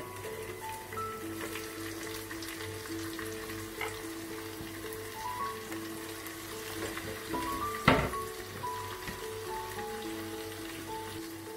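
Onions and a single cut tomato frying in hot oil with ginger and garlic, a steady soft sizzle running throughout, with a sharp clatter near the middle and faint background tones.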